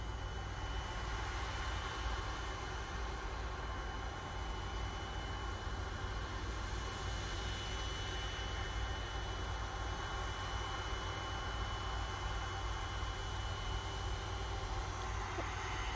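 Air Tanker jet departing Manchester Airport for Faro, a steady broadband engine roar held at an even, loud level throughout, with no voices over it.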